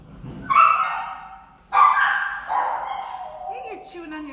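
An 8-year-old female Blue Lacy at an adoption shelter gives two loud, close barks a second apart, each trailing into yelping, followed by softer whimpering whines.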